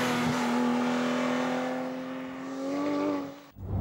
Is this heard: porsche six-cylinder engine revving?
yes